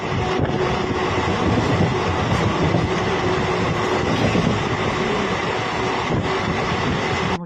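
Passenger train running on rails, heard from onboard: a loud, steady rumble of wheels and carriage with a faint clickety-clack and a thin tonal hum throughout, no talk.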